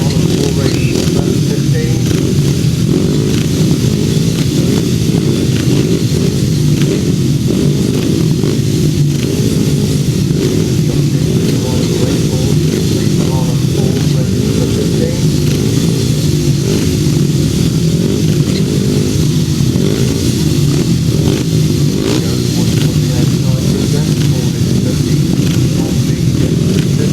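A pack of 350cc solo grasstrack motorcycles races at the Bewdley Bonanza meeting, engines roaring and revving continuously at a constant loud level with no break.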